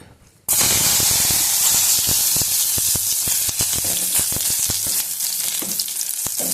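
Garlic hitting hot refined oil in a kadai bursts into a loud, steady sizzle that starts abruptly and holds, with frequent sharp crackles and pops throughout.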